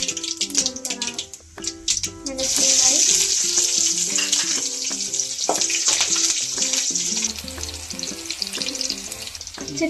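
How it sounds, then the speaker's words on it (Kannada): Curry leaves, mustard seeds and cumin fry in hot oil, a continuous close sizzle with crackling pops, while music plays throughout. "ಕರಿಬೇವಿನ ಸೊಪ್ಪು, ನಂತರ ಸಾಸಿವೆಯನ್ನು ಹಾಕಿ"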